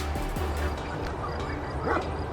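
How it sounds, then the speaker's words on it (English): A farm dog gives a brief bark or two at middle distance near a hiking trail, rising out of steady outdoor background noise. "Oh, and there's the dog."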